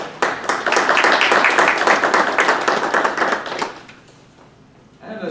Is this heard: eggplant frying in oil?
no